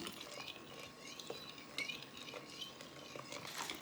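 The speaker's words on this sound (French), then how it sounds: "Et tu le verses lentement et puis on mélange" Canelé batter of milk and butter being mixed with a fork in a bowl, quiet light clinks and taps of metal against the dish scattered over a soft background, faint and close.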